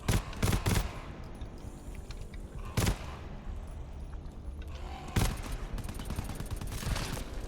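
Enemy gunfire in the video game GTFO cracks out in a few loud bursts of rapid shots, separated by quieter stretches of game ambience.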